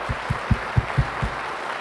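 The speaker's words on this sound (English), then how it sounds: "And I just want to give them one more round of applause." Audience at a justice and recovery court event giving a round of applause, heard as a handful of spaced, low, thumping claps in a steady rhythm over a soft background hum.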